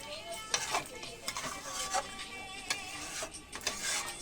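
Leafy greens with potato and coriander leaves simmering in a pan after water is added, giving a faint sizzle with occasional scraping and stirring clicks, close and quiet.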